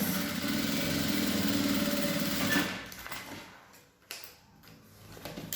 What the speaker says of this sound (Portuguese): eu vou passar uma costura de segurança nas laterais